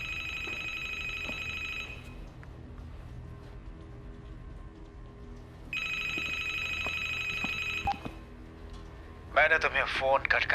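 A telephone rings in two long electronic trilling bursts separated by a pause, fairly clear over a quiet room hum, followed by a brief, shriller warbling burst.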